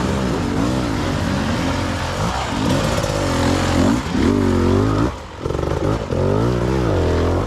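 Dirt bike engines rev in short, repeated bursts during pivot turns on a wet rock face, heard up close. The pitch rises and falls sharply, with a brief dip and clattering between throttle blips.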